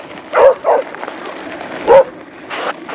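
Trail dogs met along a mountain bike park trail bark in short yips, with a few quick barks spaced through a few seconds at moderate distance over outdoor background noise.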